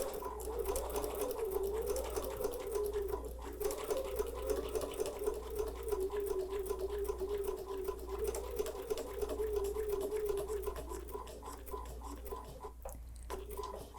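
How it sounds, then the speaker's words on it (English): Sewing machine stitching fabric on a shortened stitch length, a fast, even mechanical chatter with a steady motor hum running continuously and close up. "I have this on a shortened stitch length, a little bit of a shorter stitch length."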